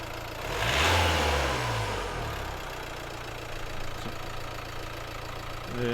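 A 2015 Nissan Juke 1.5 dCi diesel engine with a no-boost fault rises in a single rev and then settles back to a steady, fairly loud idle rumble, heard up close.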